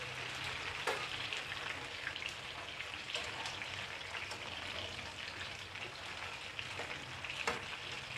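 Masala chicken pieces fry in a pan, a steady close sizzle and crackle filling the whole stretch with a few sharper pops.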